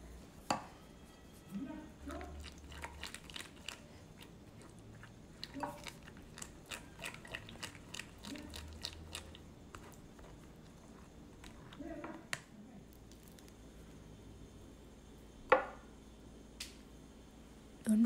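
Cooked seeds being strained through a sieve and scraped from the bottom after thickening on the stove, heard as close, irregular wet scraping and tapping clicks with soft squishes, plus a couple of sharper knocks near the end.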